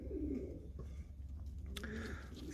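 Young pigeons coo softly in a loft aviary, a low continuous murmur of overlapping coos with a brief higher chirp near the end, close by and steady throughout.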